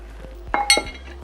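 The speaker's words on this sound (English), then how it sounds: "We use a glass dish with a lid." A glass baking dish and its glass lid clink together in a kitchen, giving two or three close, bright knocks and a short ringing chime, with no talk over them.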